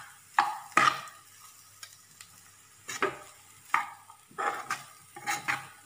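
A spatula stirs half-cooked ration rice with vegetables in a pan for egg fried rice, giving several separate scraping, shuffling strokes with soft sizzling, irregularly spaced and moderately close, with no talking.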